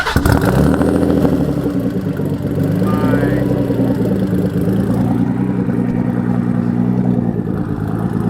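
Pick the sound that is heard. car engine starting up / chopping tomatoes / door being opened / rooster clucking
car engine starting up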